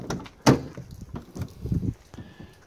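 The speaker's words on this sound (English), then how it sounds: "Sliding door works awesome." Sliding side door on a 2006 Ford E-250 3/4-ton work van, with a loud roll and thud near the half-second mark followed by softer clunks and rattles, close by with no talking.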